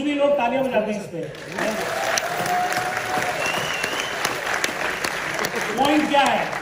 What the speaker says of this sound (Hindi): Usually लोग तालियां बजाते हैं इस पे।